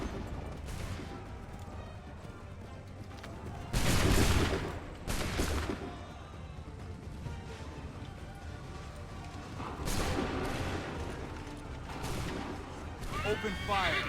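Musket volleys crack out in bursts during a battle in Assassin's Creed III, with loud massed fusillades, horses whinnying, and commanders shouting orders between the shots.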